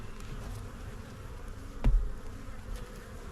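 Honeybees buzz around an opened backyard hive with brood hatching, a steady close hum with one brief louder thump partway through.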